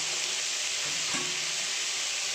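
Potatoes and beans fry in oil with mustard seeds and cumin, giving a steady, close, loud sizzle with no talking.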